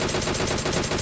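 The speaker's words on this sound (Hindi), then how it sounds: "पाशा हैरान के गोलियां आई तो आई कहाँ से" Rapid automatic gunfire in PUBG Mobile, a dense, loud burst of shots rattling continuously for a second with no talking.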